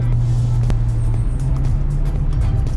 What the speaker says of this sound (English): hopefully you'll be able to hear the engine note over the noise on the camera there